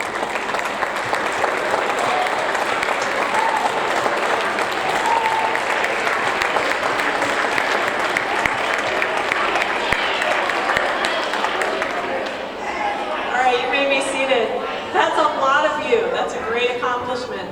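An audience at a sixth grade awards ceremony applauds honors students with steady, sustained clapping that fills the room for over ten seconds, then thins as scattered voices and chatter rise toward the end.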